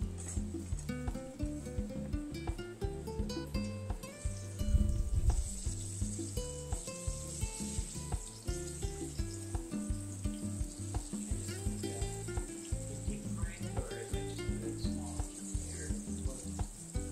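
Burro bananas frying in oil in a skillet, a steady close sizzle and crackle running without a break, with occasional clatters of stirring and turning in the pan.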